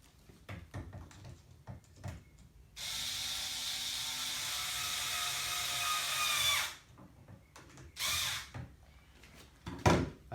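Tightening a 3D printer Y axis GT2 belt assembly with a power tool: a loud continuous whirring drive lasting about four seconds that rises slightly in pitch, a short second burst, and scattered clicks and handling knocks around it, no talking.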